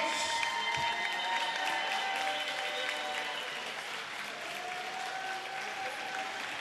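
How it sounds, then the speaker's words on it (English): A crowd applauds the LREI Knights girls' JV basketball team at a championship awards presentation, a sustained, even roar of clapping with some cheering, fairly distant and steady for several seconds. "let's give a round of applause to the LREI."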